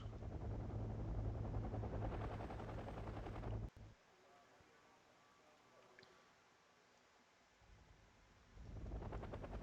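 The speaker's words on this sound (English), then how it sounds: "and the helicopters are off" Helicopters lifting off in the strategy game Wargame: Red Dragon during a tournament match, a loud steady rotor roar that cuts out abruptly, leaving quieter rumble before the rotor noise swells back near the end.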